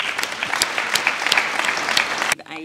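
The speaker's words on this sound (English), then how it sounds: "give all these students a round of applause" Audience applause for Year 12 students at a high school graduation ceremony, a dense, steady clapping from a large crowd with a few sharp nearby claps, ending abruptly.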